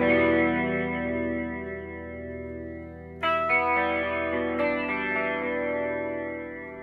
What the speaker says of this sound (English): Take it down real slow and let you hear how slow this thing will get.